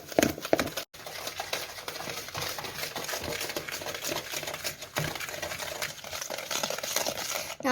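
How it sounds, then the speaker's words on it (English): Sugar and butter are beaten together until light and airy for late-night baking, a steady, close whirring and scraping churn that runs without a break and with no talk over it. "we have to keep mixing till the sugar and the butter mix together and become light and airy"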